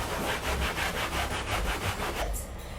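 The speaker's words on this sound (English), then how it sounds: "I'm going to take my sanding brush block" A sanding brush block scrubs chalk-style paint into upholstery fabric fibers in rapid back-and-forth strokes, a loud, rhythmic rasping close up that stops just before the end.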